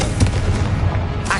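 Confringo blasting spell explosions in Hogwarts Legacy, a couple of deep booming bursts over a dense, noisy game mix with a brighter crackle near the end.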